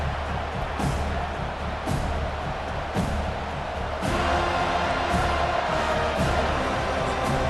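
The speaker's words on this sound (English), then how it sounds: "This crowd bringing the energy and noise early." A stadium crowd in the College Football 25 video game roars steadily, with sustained cheering and a swell in volume midway, filling the whole stretch without clear talk.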